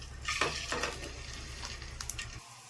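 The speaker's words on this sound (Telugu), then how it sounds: "ఇప్పుడు మనం ఈ గుడ్లని ఇందులో ఆయిల్ వేసేసుకోవాలి వేసుకొని ఎంచుకుందాం" Boiled eggs frying in hot oil in a pan for egg malai curry, a bright close sizzle with a few louder spatters and stirring scrapes, cutting off abruptly near the end.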